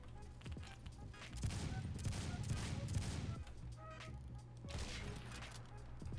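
Rapid bursts of gunfire from an online Roblox shooter rattle in quick repeated clusters, moderately loud against a busy game background with some overlapping squawky effects.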